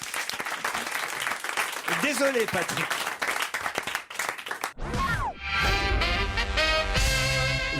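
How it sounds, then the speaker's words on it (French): A French TV studio audience applauds loudly and continuously while a host talks over the clapping, then lively music takes over near the end. "on vous applaudit"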